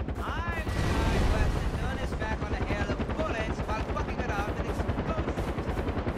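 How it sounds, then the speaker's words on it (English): In the video game Far Cry 4, a helicopter's rhythmic rotor thump rolls on steadily under rapid bursts of gunfire, with a voice talking over the action. "Fucking helicopter again."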